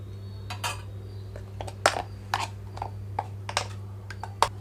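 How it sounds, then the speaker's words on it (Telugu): A spoon knocking and scraping tamarind-peanut chutney into a metal pan in short irregular clinks, close by over a low steady hum. "చట్నీ అంతా ఇందులోకి వేసేస్తున్నాను ఇప్పుడు"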